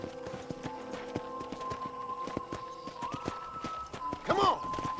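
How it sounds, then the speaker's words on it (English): In Red Dead Redemption, a ridden horse's hooves clip-clop in an even walking rhythm over a musical score, with a brief whinny and a voice near the end. "let's see if you can still ride a horse."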